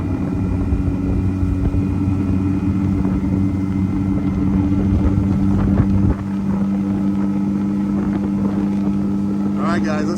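A Carolina Skiff J16 outboard engine runs steadily on plane with a loud, constant hum, water and wind rushing around it, and the engine note shifts slightly partway through.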